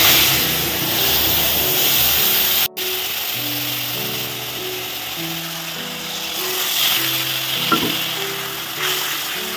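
Cumin and a spice mix sizzle in hot oil, a loud continuous frying hiss close up, with a sharp brief clatter near the start and a steady tonal background hum throughout.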